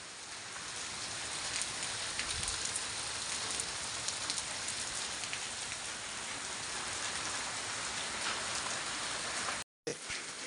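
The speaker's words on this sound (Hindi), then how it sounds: "ओलों की जगह बारिश ने ले ली।" Steady rain follows a hailstorm, falling in a dense, even hiss of drops close by, nearly unbroken until a brief cut near the end.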